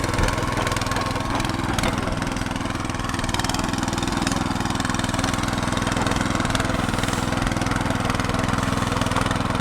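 A rotary cultivator's engine runs steadily as its tines turn and dig into garden soil, a loud close droning chug with a constant rhythmic pulse and no voices.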